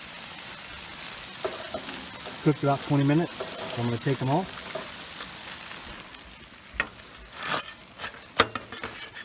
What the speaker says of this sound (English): Do you hear that sizzling goodness?